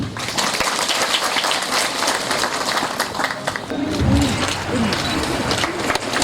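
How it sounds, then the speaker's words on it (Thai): Steady crowd applause throughout, dense and continuous, with a brief murmur of voices partway through, at a Thai local government ceremony opening a check dam project. "ขอเสียงปรบมือทุกครั้งครับ"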